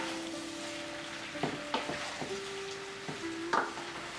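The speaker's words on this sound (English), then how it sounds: "I'm going to cook my vegetables for about 2 minutes" Vegetables for pepper steak stir-frying in a pan over a stove turned as high as it goes, a loud steady sizzle with a few sharp scrapes and clinks of stirring.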